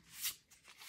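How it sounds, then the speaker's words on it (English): A tarot card deck shuffled by hand, a quick riffle of papery flutters followed by a couple of softer card slides, close and quiet. "Let's shuffle the deck first."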